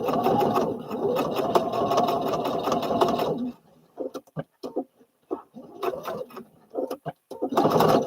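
A sewing machine stitches fabric in a fast, steady whir for a few seconds, then stops, followed by sparse clicks and handling noises before a short final burst of stitching.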